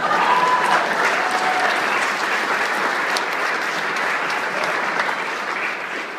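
A crowd at a retirement address applauds in loud, dense clapping that holds steady and then eases slightly toward the end, with no talk over it.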